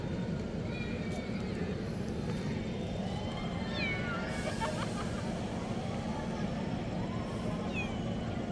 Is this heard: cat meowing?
yes